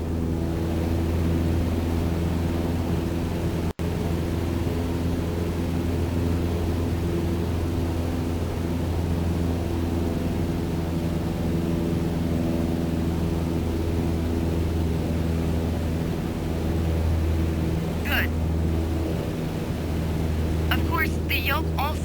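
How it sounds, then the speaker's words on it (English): A propeller airplane engine drones steadily in Microsoft Flight Simulator during a training flight, a constant low, harmonic hum throughout with brief higher blips near the end. "Pull back on the stick, the plane starts to climb."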